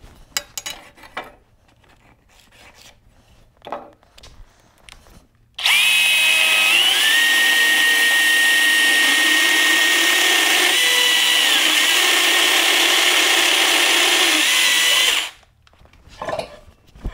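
A power tool cuts wooden felloe blanks for a large wagon wheel, a loud, steady whining burst of about ten seconds with small pitch dips as it bites, between quiet shop handling noises.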